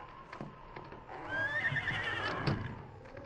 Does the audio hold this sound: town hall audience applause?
no